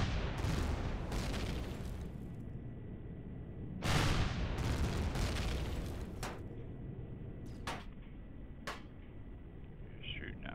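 Enemy fire striking a player's spaceship in the Empyrion survival game, a run of loud booming blasts with sharp cracks and a rumbling wash between impacts, one heavy hit near the middle and shorter crisp bangs later.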